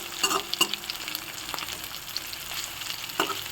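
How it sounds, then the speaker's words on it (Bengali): Fish roe fritters frying in a pan, with a steady low sizzle of hot oil broken by a few sharp crackles and spatters, close and fairly quiet. "যেহেতু সবই একটু একটু লাল করে এই বড়াগুলোকে ভেজে নেব।"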